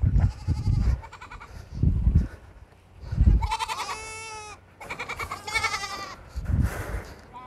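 Goats on a farm in Saudi Arabia bleat in repeated loud, close calls of young and adult animals, some long and wavering, separated by short pauses.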